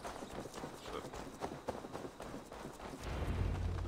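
Horse hooves clip-clopping in the Assassin's Creed Valhalla video game, a fairly quiet, quick, irregular patter of hoofbeats with a low rumbling swell near the end, under game ambience.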